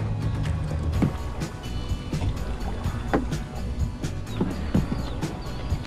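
A kayak paddles across a lake on a hot day. Paddle strokes splash and knock against the hull in a loose, repeating rhythm over continuous water and wind noise, close and fairly loud.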